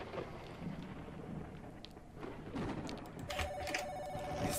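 A landline telephone rings in the horror game Mirror Forge, a bright electronic ringing that enters partway through over a rumbling, stormy ambient background.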